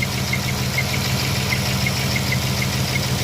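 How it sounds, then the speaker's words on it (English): A 2012 Dodge Charger SE 3.6 AC compressor running and making noises, a loud steady mechanical drone with a faint rhythmic ticking on top, up close under the hood, no talk. "So the AC compressor, I got it running. It's making noises."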